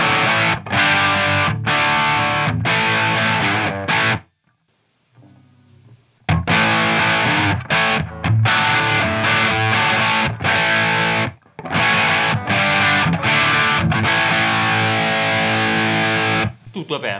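Gibson 335 electric guitar with a Burstbucker pickup plays a heavily distorted old-school rock tone, dry with no reverb or delay, loud and close in chords and riffs broken by a few short pauses.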